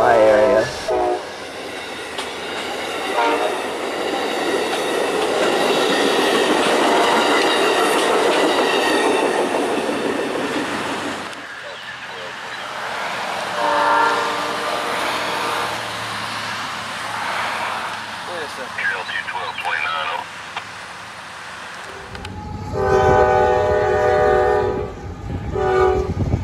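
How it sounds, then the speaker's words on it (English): A freight train rumbles past at close range with clattering cars, then its horn sounds in loud sustained blasts near the end, with a brief lull in the middle. "There goes M693 from Wausaukee to White Yard in Waycross"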